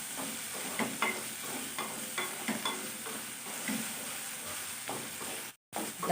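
Baby potatoes with salt sizzle in a pan while a spoon stirs them, with soft scraping strokes over a steady frying hiss and a brief gap near the end.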